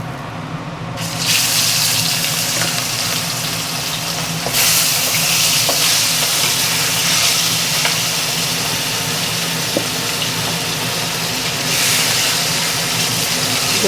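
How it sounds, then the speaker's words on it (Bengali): Bhetki fish sizzles loudly in hot mustard oil, a steady, dense crackling hiss that swells as the fish goes in and continues unbroken close to the pan, with no talk. "তেলটা গরম হয়ে গেছে, এবার মাছটা দিয়ে দেবো তেলে।"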